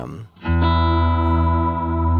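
Walrus Audio Slöer reverb pedal with modulated trails, a sustained guitar chord swelling into a thick, shimmering wash of reverb that hangs evenly and loud.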